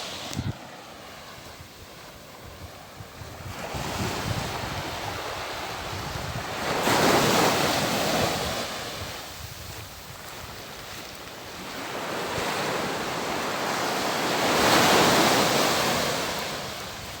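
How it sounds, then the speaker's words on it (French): Ocean waves breaking on a beach, surging in roughly every few seconds with a hiss of surf and wind noise between, no voices. "Tu fais la vaisselle au bruit des vagues."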